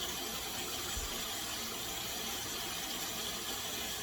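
Red lentils being rinsed under running water, a soft, steady wash of flowing water that stays even and faint throughout.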